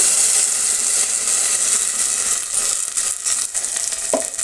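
Masala spice paste hits a pan of okra with a loud, bright, continuous sizzle, and a brief stirring clink comes near the end.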